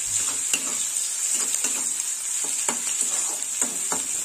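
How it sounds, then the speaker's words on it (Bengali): Sliced onions sizzle steadily in hot oil in a pan, a continuous bright hiss broken by several scraping stirs of a spatula against the pan, close and clear with no talking. "দিয়ে দেবো পেঁয়াজ। লাল লাল করে ভেজে নেব।"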